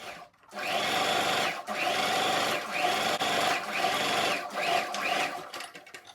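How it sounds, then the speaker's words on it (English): A sewing machine stitches tulle mesh turban fabric in several bursts of rapid, steady whirring, close and loud, with short pauses between runs and no talking. "now I'll take it to my sewing machine and stitch it down from here down to this side"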